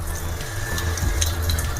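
Water poured into frying masala for an Odia poi and prawn curry, a steady close pouring and sizzling wash with faint clinks, no speech.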